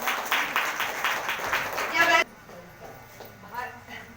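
A congregation at a Sunday prayer meeting claps loudly and steadily for about two seconds, then the applause cuts off abruptly into quieter room sound.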